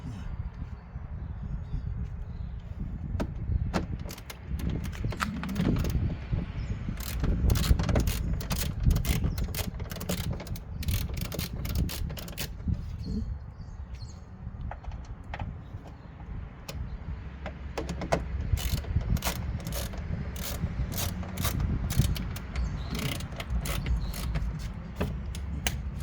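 A bolt is tightened on the driver door lock of a BMW 528i E39, a run of close metallic ratcheting clicks and creaks in bursts over a low background hum.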